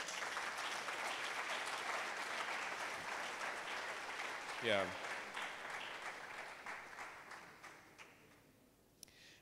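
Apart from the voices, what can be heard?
audience applause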